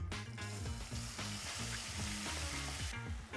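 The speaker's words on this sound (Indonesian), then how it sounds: "Bumbu ini kita tumis dulu." A ground spice paste for fried duck stir-fries in hot oil, a loud, close sizzle with a rhythmic scrape of the spatula repeating through the short burst.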